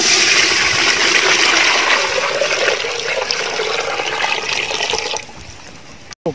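Water poured from a vessel into a cooking pot for Kerala-style Thalassery chicken biryani outdoors in wind, a steady gushing splash that tapers and ends with a brief clatter.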